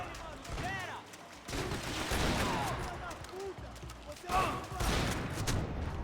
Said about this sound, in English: Ah, so this is the pump shotgun,